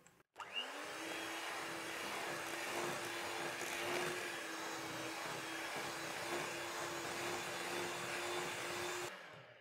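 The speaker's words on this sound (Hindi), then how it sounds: "अब इसे हम बीट करेंगे तब तक जब तक ये क्रीमी ना हो जाए।" An electric hand beater creams butter with powdered sugar for naan khatai dough, its motor starting, whining steadily and evenly for about nine seconds, then stopping, with no one talking.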